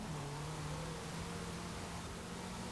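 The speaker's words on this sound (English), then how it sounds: "Nice and high revving as well." A rally car's engine in Forza Horizon 4 holds a steady, high-revving drone with a sustained tone, loud and continuous throughout with no voices.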